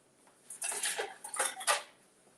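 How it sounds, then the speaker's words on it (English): Dishes and utensils clatter in a kitchen as a strainer is pulled out from among them, a few loud bursts of clinking metal and crockery over about a second, close by with no talk. "Let me get the strainer."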